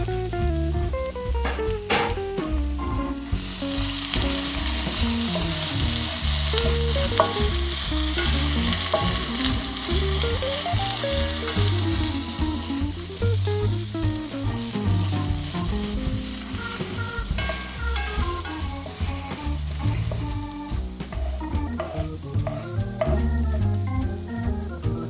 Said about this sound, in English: I'm going to add our chopped vegetables into a hot pan. Saute those for 2 to 3 minutes.